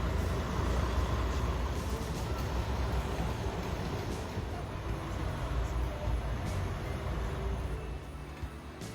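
Disney resort buses rolling past at Port Orleans, a continuous low engine rumble and road noise that swells early and then eases off gradually while the vehicles drive by.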